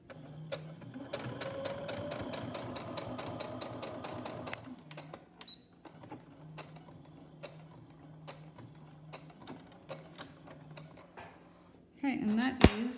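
A sewing machine runs in rapid, evenly ticking stitches for several seconds while sewing the last stretch of a rhino mask, then slows to sparse clicks before a louder rustle at the end.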